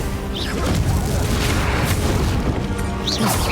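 A Confringo spell explosion in Hogwarts Legacy on Nintendo Switch, a loud, dense booming blast with crackling debris that fills the whole moment, with no talk over it.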